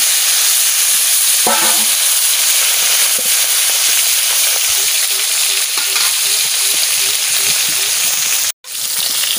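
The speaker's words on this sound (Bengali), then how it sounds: "তেল গরম হয়ে গেছে, আমি মাছ ভাজা বসাই দিচ্ছি।" Pieces of salted fish frying in hot mustard oil, a loud, dense, steady sizzle filling the whole stretch with scattered spatters and pops, one brief dropout near the end.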